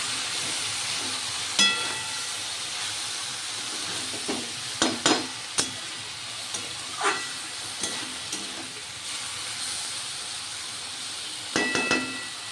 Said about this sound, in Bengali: ভেজে রাখা চিংড়ি মাছগুলো দেওয়া হয়ে গেল। এবার নেড়ে চেড়ে আরও 2 মিনিট আমি ঢাকনা দিয়ে ঢেকে রাখবো